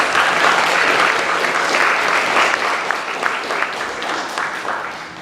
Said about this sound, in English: Give one more round of applause for Grace Lewis.